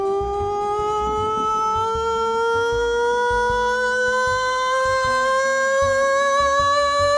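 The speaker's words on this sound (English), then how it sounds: "Coming in at number 28, we have the Birdhouse Rising Sweeper Tone." A Birdhouse Rising Sweeper Tone: a sustained high-pitched tone that slowly and steadily climbs in pitch, loud and continuous throughout, over a low choppy rhythmic backing.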